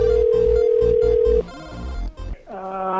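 An outgoing telephone call gives a steady ringback tone over a rhythmic low thumping beat. The tone cuts off partway through and other electronic phone tones follow.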